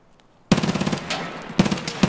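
Automatic gunfire in the shooter game Escape from Tarkov: a sudden loud burst of rapid rounds after a brief hush, then a second short burst, close and punchy with a rattling rhythm.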